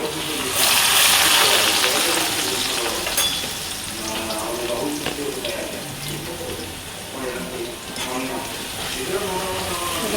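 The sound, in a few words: thin-sliced potatoes frying in hot oil in a wok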